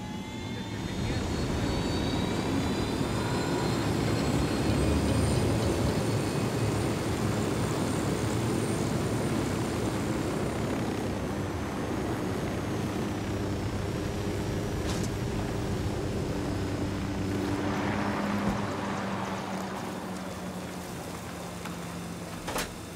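Aircraft piloted in Ghost Recon Wildlands gives off a steady engine roar that stays loud throughout, with a faint voice under it and a brief swell near the end.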